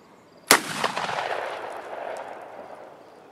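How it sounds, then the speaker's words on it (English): A single sharp, loud 12 gauge shotgun blast outdoors, firing a tracer round at the ground, followed by a long rolling echo that slowly fades; no talk. "my nephew here is going to shoot one of these tracers at the ground."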